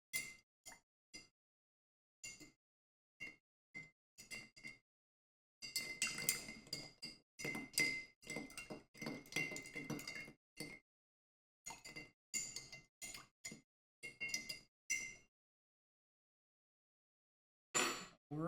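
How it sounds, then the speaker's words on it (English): A bar spoon stirs a cocktail in a glass, making quiet clinks and rattling taps in short scattered bursts with silent gaps between them. "Gonna give this a stir"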